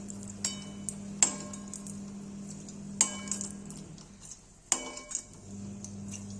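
Onion is added to reduced oil in a pan for mushroom masala, heard as a few sharp metallic knocks and clinks of a utensil on the pan spaced over a quiet, low background hum, with no talking.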